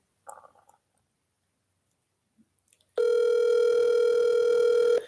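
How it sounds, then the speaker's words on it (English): Dialing noises are followed by a loud, steady telephone ring tone on an outgoing call, starting abruptly and holding for about two seconds. "Answer your phone."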